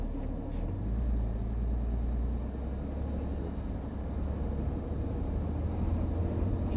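A Porsche 911 GT3 pulls away gently in first gear on a light throttle at the Dreux circuit, its steady low engine rumble heard from inside the car and continuing evenly, with a voice talking over it.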